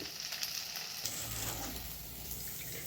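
Idli pieces deep frying in hot oil, a continuous dense bubbling sizzle heard close and steady throughout with no voices.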